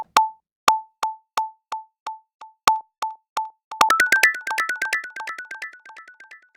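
Output of the Fluctus ping pong delay plugin by Nakst Audio: a clean tonal blip repeating as evenly spaced echoes, then a denser, brighter burst of overlapping pitched repeats that gradually fades away.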